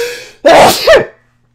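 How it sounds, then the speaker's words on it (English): A single loud, close sneeze with a sharp explosive burst, followed by silence. "I need to blow my nose. I'm going to sneeze"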